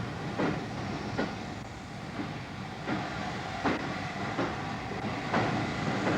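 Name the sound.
steam train running on rails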